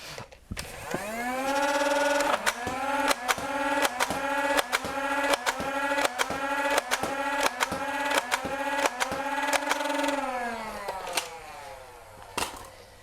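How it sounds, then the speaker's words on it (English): An Xtoyz motorized toy blaster fires suction-head darts from its standard ten-round magazine: a motor spins up into a steady whine with a rapid, even train of about a dozen sharp shots, then winds down. "We're first going to start up with the included suction head darts, 10 of them in the standard magazine that comes with the Xtoyz blaster."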